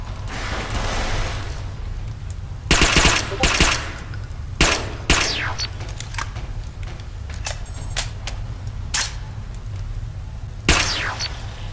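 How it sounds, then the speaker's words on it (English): Bursts of gunfire from mercenaries in the video game Interstellar Marines echo through a space station, with several sharp shots spaced irregularly over a steady low hum and no talking. "The Mercs have opened fire on the station's personnel."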